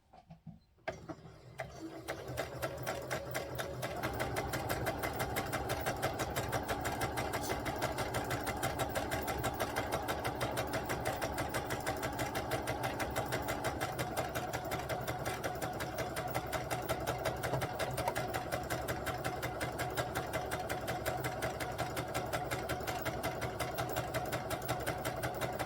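A sewing machine runs steadily on its longest stitch setting, stitching a gathering row along a little girl's dress. The close, continuous mechanical whir holds a fast rhythmic tick throughout and plays alone with no talking.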